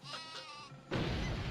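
Super Sheep bleating in the video game Worms Armageddon, a short nasal bleat with a quivering tone, followed by a loud, sudden crashing burst of noise.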